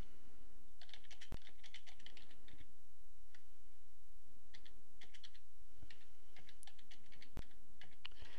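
Text is typed into boxes on a computer keyboard, with quiet, close clusters of key taps in irregular bursts and occasional sharper single clicks over a soft background hiss, with no voices.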